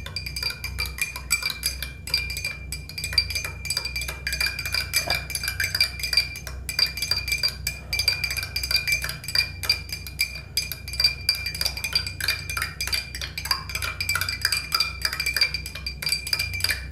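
Metal spoon scraping a bar of Pears soap, producing a steady, close, continuous scratchy clinking texture with faint metallic ringing throughout, no voices.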